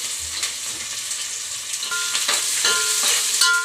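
Onions and green chillies sizzle steadily in hot oil with cardamom, cinnamon and cloves, a bright continuous hiss broken by a few soft stirring scrapes, close and alone with no voices.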